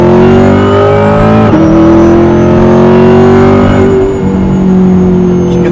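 A supercharged C8 Corvette with a Lingenfelter Magnuson TVS2650 kit in track mode accelerates hard, its engine note loud and close, climbing steadily in pitch with a brief dip at a firm upshift before rising again.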